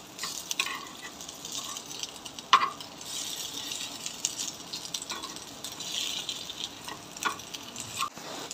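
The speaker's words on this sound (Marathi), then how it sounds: "आपण दुसरी पण बाजू फ्राय करून घेऊया" Chiwali leaf vadya frying in oil in a pan, a soft steady sizzle with faint scraping stirs and a sharp clink near the middle, close and fairly quiet, no talking.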